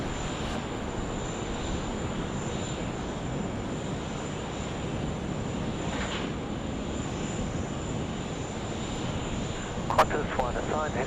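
Qantas airliner engines droning at Sydney Airport as the plane readies for takeoff, a steady distant roar with wind noise and a brief clatter near the end.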